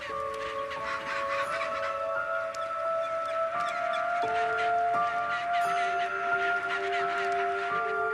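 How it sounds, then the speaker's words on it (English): Chinstrap penguins at a crowded rocky-ledge breeding colony call in a layered chorus of sustained honking, braying tones, many birds overlapping near and far. "Chin-strap penguins flood in by the thousands to set up their summer homes"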